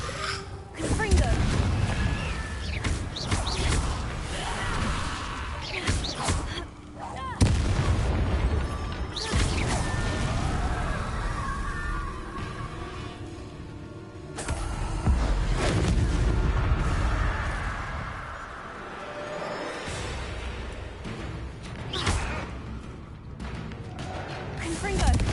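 Confringo explosive spell blasts in Hogwarts Legacy, heavy booming bursts with rumbling debris that surge and fade across the scene amid game sounds, while a voice talks over the action.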